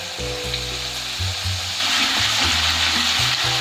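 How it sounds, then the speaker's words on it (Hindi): One tablespoon of ginger garlic paste sizzles and fries in hot oil in a pan, a steady loud hiss that runs the whole time with some clinking and stirring noises beneath it. "अदरक लहसुन पेस्ट को मैंने 2 मिनट तक फ्राई किया है।"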